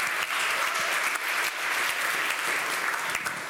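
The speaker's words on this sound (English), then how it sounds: "can you give a little applause so some other people would feel motivated?" Audience applause at a conference talk on hotel industry software and internet distribution, a close, steady patter of many hands clapping for a few seconds with no talk.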